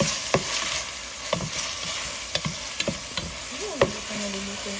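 Ground meat browning with garlic in a pan sizzles with a steady hiss, broken by sharp scraping clicks as a spatula stirs it every second or so.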